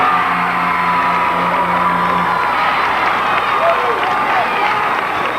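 A basketball crowd at a 1992 boys' high school game roars and cheers loudly and continuously, with whoops and clapping throughout, and an announcer's voice partly audible under the noise.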